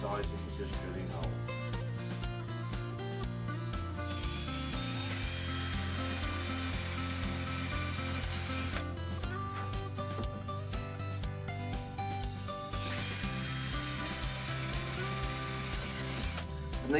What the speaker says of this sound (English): what I'm going to do first is drill these holes.